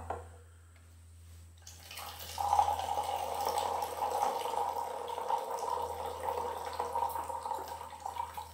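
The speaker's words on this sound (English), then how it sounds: "You notice the high pour produces a lot of bubbles." Ripe pu-erh tea poured from a height into a cup, a steady splashing, bubbling stream that starts after a quiet moment and continues close and moderately loud.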